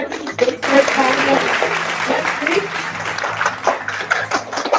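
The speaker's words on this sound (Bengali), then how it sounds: "আমরা জোরে হাততালি দিব এভরিবডি" An audience at a wedding-special family game show at a store bursts into loud applause, a dense wash of clapping that swells and continues, with an announcer's voice talking over it.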